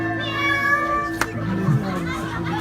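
Hypnotized people at a campground hypnosis show meow like cats, several human voices imitating drawn-out, tonal meows one after another, with a sharp clap partway through.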